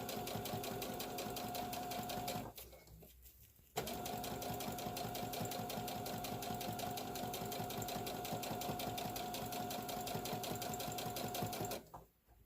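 A sewing machine stitches a blue stand mixer cover in a fast, even whir with one short pause before it resumes, steady and close, stopping near the end with no talking.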